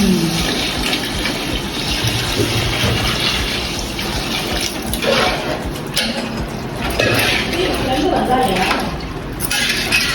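Water pours steadily into a large pot for biryani being cooked outdoors, a continuous rushing splash with occasional metallic clinks, a voice talking at times.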